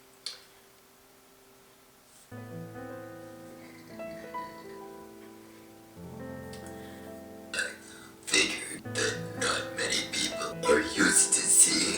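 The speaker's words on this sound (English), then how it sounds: "this is me making another burping video" A woman lets out burps over a soft tonal background, with a small sharp one near the start and a run of louder, rougher belches toward the end.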